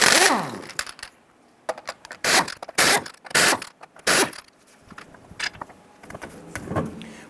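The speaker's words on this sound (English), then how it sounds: "Using your 19mm socket, loosen and remove your lug nuts." A 19mm socket works lug nuts loose on a 1994-2004 Ford Mustang front wheel, giving bursts of loud ratcheting creaks and metallic scrapes with short pauses between, close and alone.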